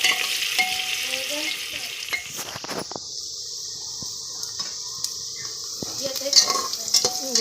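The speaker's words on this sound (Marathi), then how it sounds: "कांदा चांगला ब्राऊन होईस्तोवर असं हलवत घ्यायचा आहे" Chopped onions stirred in a hot pan until browned for biryani, a steady sizzle of frying under intermittent scraping strokes of a spatula against the pan, close and continuous.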